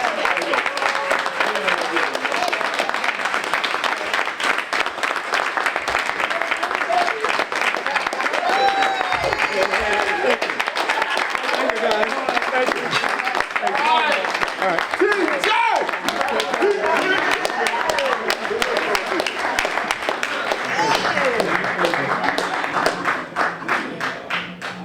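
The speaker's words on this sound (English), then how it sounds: "Give him a round of applause," A crowd at a gathering honouring a 90-year-old man gives sustained, dense applause that runs nearly the whole stretch, with voices and cheers mixed in under the clapping.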